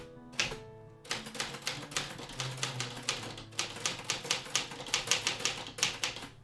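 Keys strike on a typewriter in a quick, fairly regular run of sharp clacks after a brief pause, close and crisp, with no talking.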